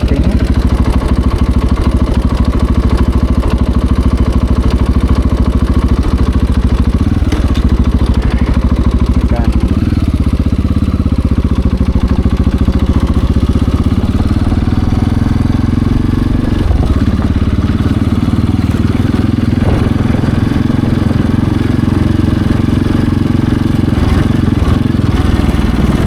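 A KTM 690 Enduro motorcycle rides along at low throttle, its engine a steady, loud, close rumble that changes only slightly throughout.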